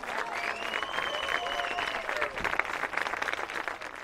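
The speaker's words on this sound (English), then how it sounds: "Let's give these senior athletes and parents one more round of applause." Crowd applause rings out at a high school football game for senior athletes and their parents, a steady round of clapping with tonal whistles or horns threaded through it.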